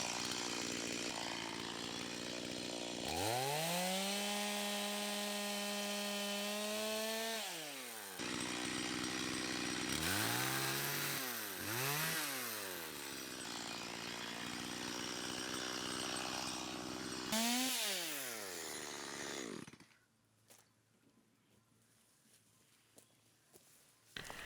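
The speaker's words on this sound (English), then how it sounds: "I only have 1 tank of fuel for the chainsaw." A chainsaw cuts tea tree on an Australian homestead, its engine revving up and dropping back through several loud bursts for about seventeen seconds before cutting out to quiet.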